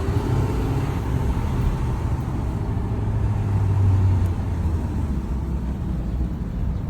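A 2011 Ford F250 truck idles and creeps while parking, its engine a steady low rumble that swells slightly midway, with no talk over it.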